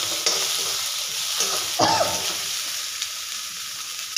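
Green chilies fry in a hot pan with a constant bright sizzle, broken by a few soft spatula strokes stirring them; close and even, with no talking.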